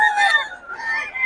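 Chickens at a market cluck and crow in a short, close, fairly loud burst, with a brief break in the middle and faint talk around them.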